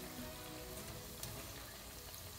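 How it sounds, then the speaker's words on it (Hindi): Onion pakoras frying in hot oil, a steady, even crackling sizzle that stays close and constant throughout with no talking over it. "ये 2-3 मिनट हमने एक साइड से फ्राई करना है।"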